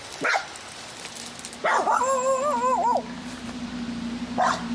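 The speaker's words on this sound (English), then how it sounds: "Mama, don't be growling. The mother dog is chained up" A chained mother dog, fearful and defensive, gives brief yips and a drawn-out wavering whimper, close by, with faint background noise between the sounds.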